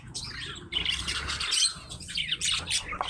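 Pet birds in a bird shop, including a mandarin and a budgie, chirp and squawk in a busy, continuous chorus of bright calls at close range, with no talk over them.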